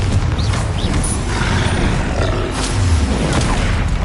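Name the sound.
spell explosion in the video game Hogwarts Legacy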